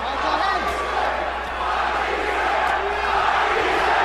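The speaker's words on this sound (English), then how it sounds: "And the crowd is chanting, Matthysse, Matthysse, Matthysse." At a boxing match between Lucas Matthysse and Ruslan Provodnikov, an arena crowd keeps up a dense, rhythmic chant with a steady roar behind it.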